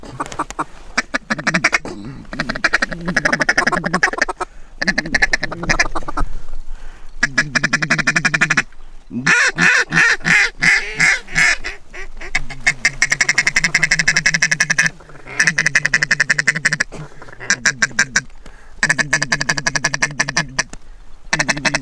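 Mallard ducks quack loudly and repeatedly in a dry field at sunrise during a duck hunt, with dense overlapping calls in bursts and short pauses.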